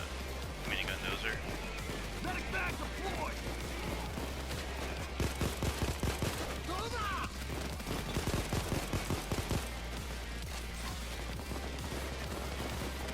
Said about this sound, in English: Oh, that's a minigun dozer.